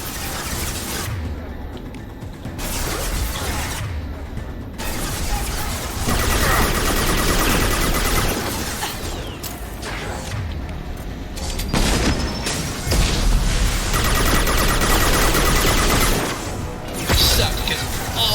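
Gunfire in the Mass Effect 2 video game, loud bursts of rapid shots and booms coming in waves with short lulls between, close and dense, with a voice talking now and then.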